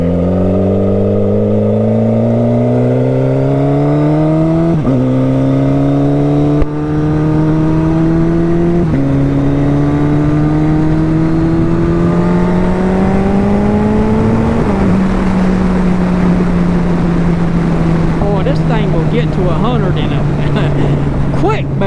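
A turbocharged Suzuki Hayabusa motorcycle pulls hard through the gears, its loud engine note climbing in rising sweeps broken by quick shift drops, then leveling into a steady high-speed drone under wind noise.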